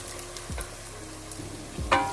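Onions frying in a pan while preparing a chicken dish, with a soft continuous sizzle, occasional utensil knocks and a brief scrape near the end, and a low hum underneath.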